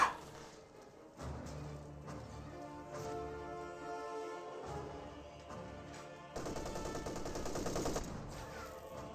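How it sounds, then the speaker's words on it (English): An MG34 machine gun firing in Company of Heroes 2, rattling in long sustained bursts at moderate distance, growing louder and denser near the end amid battle noise. "MG34 firing away"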